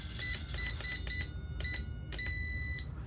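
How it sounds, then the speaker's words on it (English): A series of sharp electronic beeps from a Wltoys K969 1/28 scale RC drift car, short and repeated in an uneven rhythm over a low steady hum, close and clear. "The solid beep is that it's balanced."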